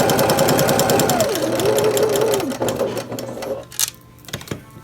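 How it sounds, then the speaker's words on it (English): A sewing machine stitches through layers of fabric and ribbon in a rapid, steady mechanical chatter that winds down and stops, leaving a few faint clicks. "There we just sewed through the layers of your fabric and the ribbon as well."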